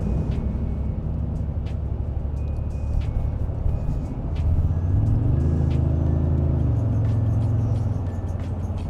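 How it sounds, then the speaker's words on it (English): Engine of a 2025 Toyota Tundra Limited truck heard from inside while driving, a steady low rumble that swells into a deeper burble as the engine cuts in midway, with road and cabin noise underneath. "the only thing you can hear is the burble of that engine when it cuts in"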